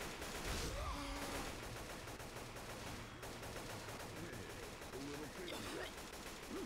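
Rapid, steady shotgun fire from a combat shotgun in Left 4 Dead 2 rattles through the scene amid game noise, with a voice speaking over it.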